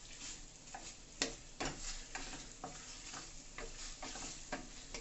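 Chicken breast stir-frying in hot oil that spatters out of the pan, a low steady sizzle broken by sharp scraping stirs and occasional loud pops and clatters, close up and without talk.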